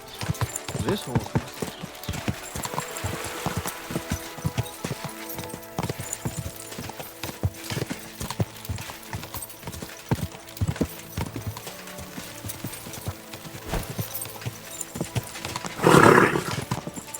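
Horse hooves in Kingdom Come Deliverance 2 beat a steady, quick clip-clop that runs throughout, swelling into a louder burst near the end, with voices talking over the hoofbeats.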